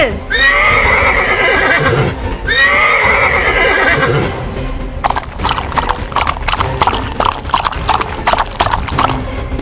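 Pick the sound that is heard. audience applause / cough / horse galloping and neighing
horse galloping and neighing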